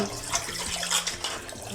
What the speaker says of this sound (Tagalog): Panlawan ko na yung mga pinggan guys.